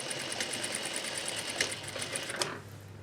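A sewing machine stitches along the edge of a zippered pillow, a fast, even mechanical whir heard close and alone, with a couple of louder clicks before it slows and stops.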